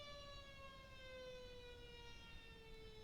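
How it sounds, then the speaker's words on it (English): A single siren wails faintly in the distance with a steady, slowly falling tone over low background rumble, quiet and continuous. "the siren's going off."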